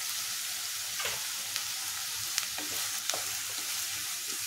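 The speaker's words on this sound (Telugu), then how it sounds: "ఉల్లిపాయలు వేగడానికి కొంచెం ఉప్పు వేసుకుందాం." Sliced onions frying in a pan of oil with a pinch of salt for a home-style dry prawn curry, giving a steady broadband sizzle. Occasional soft scrapes from stirring rise above it, and no voices are heard.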